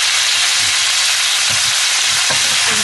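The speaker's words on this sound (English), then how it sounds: "I'm just gonna fry all this together just for a second" Lamb in tomato gravy fries in a pan with a steady, loud, close sizzle and a dense hiss throughout, broken by a few soft stirring knocks.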